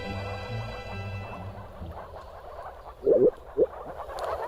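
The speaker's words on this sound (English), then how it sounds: "More frogs." Moor frogs in the Biebrza Valley croak during mating season, a few loud, close croaks breaking out in a quick cluster and then another single croak, over a low background of softer calls.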